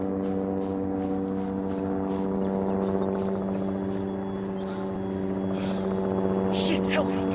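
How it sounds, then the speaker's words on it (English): A helicopter in the military video game ArmA 3 flies nearby, its engine and rotors forming a steady low droning hum throughout. Shouted voices break in near the end. "Shit, helicopter!"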